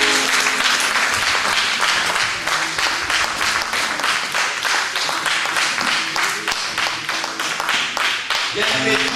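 A church congregation applauds and cheers together, a dense, steady wash of clapping lasting throughout at full volume, with voices mixed into the crowd noise.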